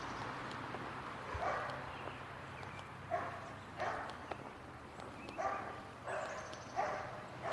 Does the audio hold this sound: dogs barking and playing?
yes